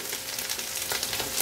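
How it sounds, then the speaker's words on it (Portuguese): An egg frying in a pan gives a steady, close crackling sizzle throughout, with light popping and no voices. "Tô aqui fritando um ovinho"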